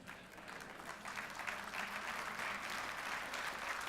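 An audience at a sermon breaks into applause, a soft, distant wash of many hands clapping that swells slightly and carries on steadily for several seconds.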